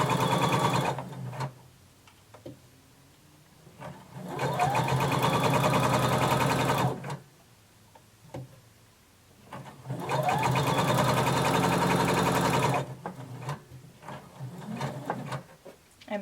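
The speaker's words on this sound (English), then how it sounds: "And then sew using a 1/2 inch seam allowance." A sewing machine stitches a 1/2 inch seam through lining and fabric on a dress bodice, whirring in two sustained bursts of several seconds each, with shorter starts and stops between them, close and clear.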